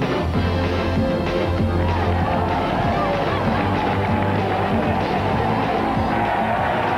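Dense crowd hubbub fills a Stuttgart street at the 1987 Tour de France, a steady wash of thousands of spectators' voices and cheering, loud and continuous throughout.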